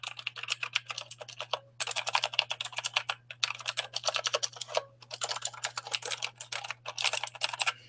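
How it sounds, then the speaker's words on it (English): Rapid clicky typing on an ioGear Mechlite mechanical keyboard with blue Cherry switches, sharp tactile key clicks in fast bursts separated by brief pauses, close up, over a faint low hum. "it's a mechanical keyboard with blue cherry switches. Let's give it a listen."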